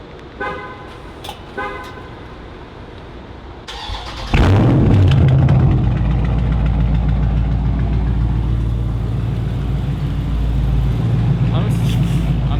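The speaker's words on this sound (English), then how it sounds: "I'm still gonna hit the little cold start, just real quick." A Dodge Charger Scat Pack engine cold-starts, cranking and roaring to life loudly, then settles into a rough, rumbling idle through an open straight-pipe exhaust.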